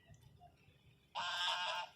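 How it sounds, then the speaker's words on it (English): A goose honks in the background in one loud, steady burst of about three-quarters of a second after a quiet stretch. "Goose."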